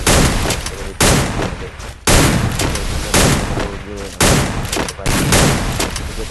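Bursts of gunfire from the Free Fire video game come in loud, close volleys of about one second each, split by short gaps, with a faint voice at times.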